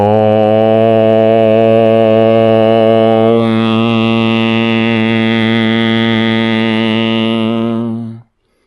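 A single long chanted 'Zong' healing tone for the digestive system, a steady voiced hum that holds for about eight seconds, shifts its vowel colour midway, then fades out.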